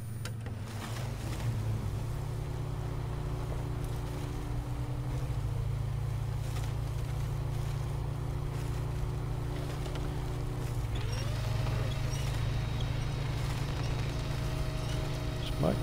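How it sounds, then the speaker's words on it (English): A truck engine runs in the off-road driving game SnowRunner, giving a steady low drone with a faint tonal whine that shifts pitch partway through and continues without a break. "Yep, start your engine, buddy."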